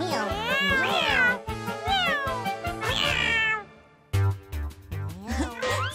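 Kittens meow in a children's TV cartoon story, with repeated high, wavering cartoon meows over light background music, loud and close, and a brief pause before more meowing.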